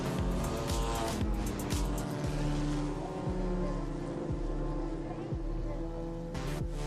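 Race cars roar around Barber in a championship race on a wet, slippery track. Several engines drone loudly and continuously with rising and falling revs as the cars pass close by.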